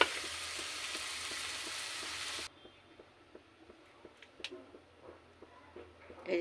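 Banana flower pakora in batter frying in hot oil in a kadai, starting with a loud, dense sizzle that drops abruptly to quieter crackles, light clinks and stirring taps.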